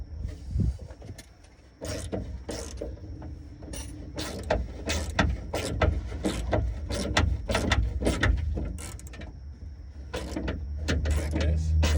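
A 10 mm ratchet wrench works a fastener while a spoiler is fitted to a car, giving a run of rapid close clicking bursts that grow busier and denser over the span.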